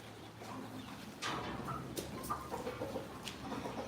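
Chickens cluck intermittently nearby on a goat farm in India, short clucks scattered over a low background of farmyard noise.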